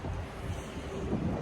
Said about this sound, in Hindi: हेलो गाइस, बहुत तेज़ हवा चल रही है, बहुत ज़्यादा तेज़।